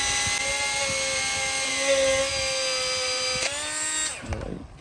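Power tool polishing a Glock 17L part: a high, steady whine holding for about four seconds, then spinning down and stopping, close and loud with no talking.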